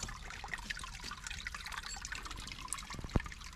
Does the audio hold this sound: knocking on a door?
no